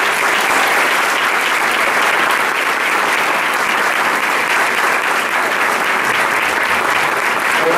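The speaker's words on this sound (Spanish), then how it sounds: "Espero que reciban con un fuerte aplauso al señor Michael González Cruz." An audience at a university talk on decolonization applauds to welcome a speaker, dense sustained clapping filling the room at a steady loud level from start to finish, with no voices over it.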